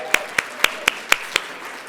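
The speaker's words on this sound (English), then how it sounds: "Just want to give you a round of applause." Six sharp, evenly spaced claps ring out in a quiet room, slow and deliberate rather than a full crowd.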